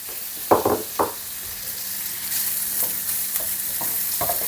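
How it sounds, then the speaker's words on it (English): Steady sizzling of Spam frying in a hot pan for kimchi fried rice, with a few clanks of a utensil scraping and stirring against the metal. "So we're going to fry this off until the outside goes a little bit brown and crispy on the outside."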